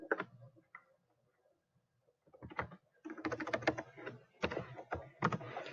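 Keys tapped on a computer keyboard in bursts of quick, close clicks, a few isolated taps at first, then denser typing runs broken by short pauses, with no talking.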